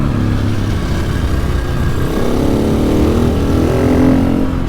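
KTM 660 SMC single-cylinder motorcycle with a new engine being broken in, a steady loud engine drone while riding, varying slightly in pitch throughout.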